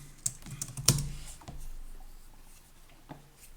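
Scattered keystrokes on a computer keyboard, a few quiet clicks and one sharper tap near the start, then sparse light presses in an otherwise quiet room.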